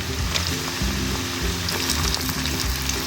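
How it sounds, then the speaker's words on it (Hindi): Chicken sizzles and fries in oil with cinnamon and black cardamom in a karahi, a steady, close crackle that holds for the whole stretch with no talking. "गोश्त इसमें डालकर अच्छी तरह फ्राई करेंगे।"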